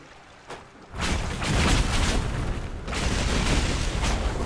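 Fireworks burst in the fantasy game Dragon Age Inquisition, a dense sustained crackle and rumble of explosions after a brief quiet start, loud and continuous with no voices.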